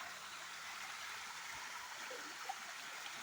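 At the Nerodi Gummi waterfall, about 100 feet high, falling water makes a faint, steady rushing hiss heard from some distance, with no voices over it.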